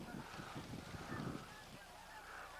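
Canada geese honk in a scattered chorus, fairly close and continuous over a few seconds of open outdoor air during an afternoon hunt from a blind.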